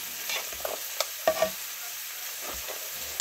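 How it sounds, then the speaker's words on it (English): A hand masher works through garlic potatoes with sour cream in a pot, making soft, scattered squishing and tapping sounds that stay quiet and close. "So I'm going to continue to mash these, and then when I get them all mashed up,"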